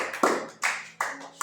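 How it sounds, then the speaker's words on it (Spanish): Soft, slow clapping from a church congregation after a closing prayer, heard as four separate muted claps spaced roughly evenly, fairly close and with no talk over them. "Dale un suave aplauso"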